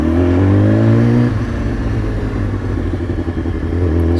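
A BMW S1000RR sport motorcycle engine rumbles loud and close, a steady high-pitched tone that drops after a second as the revs fall back to a throbbing idle.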